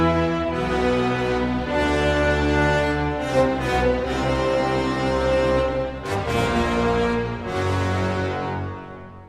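An orchestra plays the low, heavy Sultan theme from Scheherazade, full orchestra with deep brass and strings sustaining loud chords, close and continuous with no talking.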